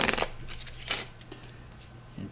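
A deck of cards is shuffled during an Earthborne Rangers board game, with a quick riffle burst at the start and another soon after, close and fairly soft, against a low background hum.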